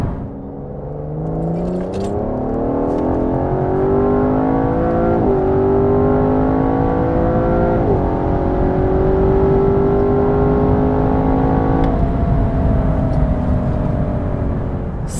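An Aston Martin DBS Superleggera with two people aboard accelerates hard on a nearly straight Autobahn from 100 to 200 km/h. The loud engine note rises steadily, and brief gear shifts break it into several long, climbing pulls.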